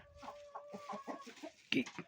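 Young roosters and chickens basking outdoors in sun after two days of rain cluck and chatter softly at close range, with a louder squawk near the end.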